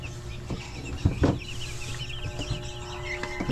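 Five-day-old broiler chicks in a brooder, a busy chorus of high peeping and cheeping with a few louder knocks and rustles, close by and continuous.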